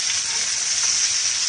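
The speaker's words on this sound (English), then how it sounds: "And they are sizzling hot." Steakhouse onions frying in a cast iron skillet, giving off a constant, loud, close hiss of sizzling that holds steady without a break.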